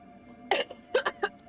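A sick person coughs in a home while streaming, giving a quick cluster of three or four short, congested bursts close to the microphone, spaced unevenly with brief pauses between them.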